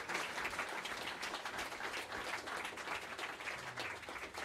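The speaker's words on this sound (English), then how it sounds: "let's have a big round of applause" Audience applause after a live concert set of Leonard Cohen songs at a venue, a steady dense wash of clapping heard from a distance, fairly faint and unbroken throughout.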